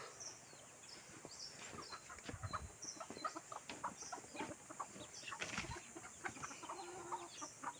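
Chickens being fed cluck and squawk amid a noisy farmyard background, steady and moderately distant, with no one speaking.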